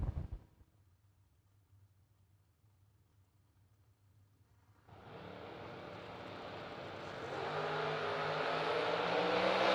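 A Camaro drag racing car at a drag strip goes quiet after a short burst, then its engine comes in with a sudden loud roar, building and revving harder as it pulls away.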